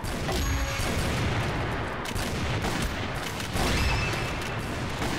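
Steady bursts of gunfire fill a CrossFire Vietnam match from start to finish, with rapid overlapping shots and rattling fire that stays loud and dense and never lets up, and no voices are heard.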